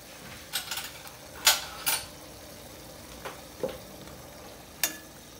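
Tempura dipping sauce boiling and being stirred in a pan, with a few sharp utensil scrapes and clinks against the pan over a faint low bubbling, fairly quiet and without talk.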